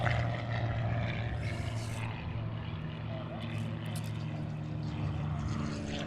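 An air race plane with a water-cooled engine flies past, giving a steady, loud propeller drone that holds for several seconds.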